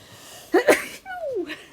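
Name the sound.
sneeze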